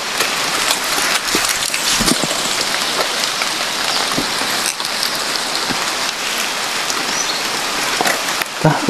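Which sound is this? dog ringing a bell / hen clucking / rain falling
rain falling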